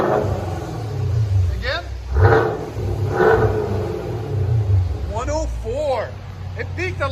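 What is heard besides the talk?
Camaro exhaust with Flowmaster muffler, engine revving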